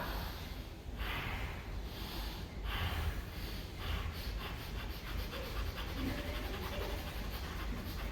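Fire breathing exercise, rapid rhythmic breathing in and out through the nose, a steady series of quick sniffing huffs, close and moderately loud, with no talking.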